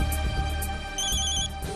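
A telephone ringtone plays steadily at a loud level in a household, its bright electronic melody repeating without pause and with no voices over it.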